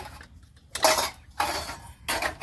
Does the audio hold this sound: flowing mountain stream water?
no